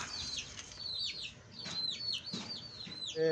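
Fancy chickens give repeated short bird calls and clucks close by, rising and falling in a busy, irregular pattern with no voices over them.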